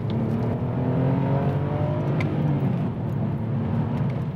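A manual BMW 630i E63 with the N52 straight-six pulls hard after a downshift, its engine note rising in steady harmonics as it accelerates, loud and continuous from inside the car with no talk.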